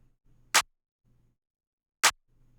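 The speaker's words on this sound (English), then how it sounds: "Next thing is this clap. It's a really basic clap." A basic clap lands on the 3 and 7 of a beat, two sharp, loud isolated hits spaced about a second and a half apart over a faint, quiet low bass pattern.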